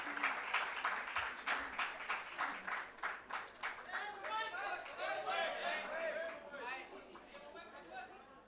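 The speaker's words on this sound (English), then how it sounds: "A very big round of applause for him." Audience applause at an evening event with a chief guest, a steady run of clapping from a crowd that swells and holds for several seconds, with cheering and chatter mixed in.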